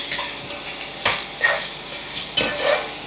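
Two medium onions hit hot oil for an egg garlic curry, giving a soft sizzle broken by several sharp hissing bursts and spoon scrapes, close up with no talking.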